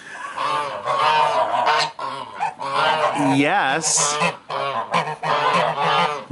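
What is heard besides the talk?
Czech geese honking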